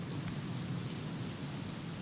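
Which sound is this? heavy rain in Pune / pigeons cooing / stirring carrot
heavy rain in Pune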